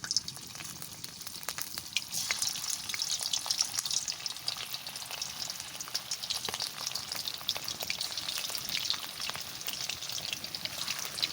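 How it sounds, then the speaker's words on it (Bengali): Chicken muitha dumplings dropped one by one into hot oil, frying with a dense, crackling, rain-like sizzle that stays steady and close for several seconds, with no talking. "তেল গরম হয়ে গেছে আমি একটা করে ছাড়িয়ে দিচ্ছি"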